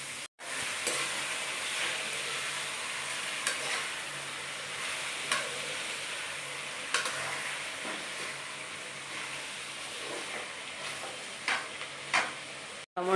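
Tomato and onion frying together in a pan for vegetable upma made with bansi rava: a continuous close sizzle with occasional stirring scrapes, moderately loud and free of talk.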